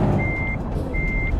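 A truck in Euro Truck Simulator 2 backs up, and two steady electronic reversing beeps sound over a low engine rumble.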